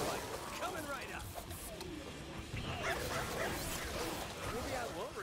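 A dog in a video game yips, barks and whimpers in short bursts through a busy, steady mix of game noise, with people talking over it throughout.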